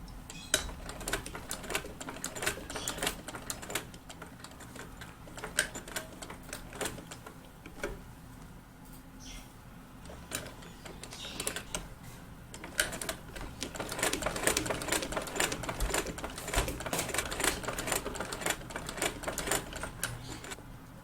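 An electric sewing machine stitches a men's suit garment, running in a steady rapid clatter that fades briefly mid-way, then picks up again louder, with no talk over it.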